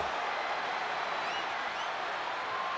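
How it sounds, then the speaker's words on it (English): Capacity arena crowd roaring and cheering at a no-holds-barred wrestling match in the WWE 2K25 video game, a dense steady wall of noise throughout with faint whistles rising above it. "And do you hear this capacity crowd?"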